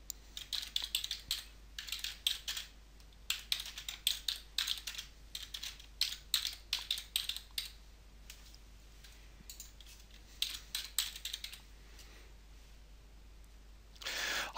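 A title being typed on a computer keyboard, quiet close key clicks in irregular bursts with short pauses between words, no voices.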